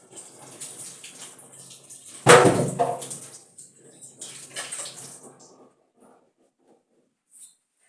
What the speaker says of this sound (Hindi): पहले मैं इसे धो लेती हूँ।